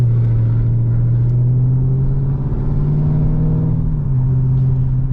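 Dodge Charger R/T with a 5.7L V8 under way in full automatic mode, a steady low engine drone that rises slightly in pitch, then drops as it upshifts early around 2250 RPM, heard from inside the car.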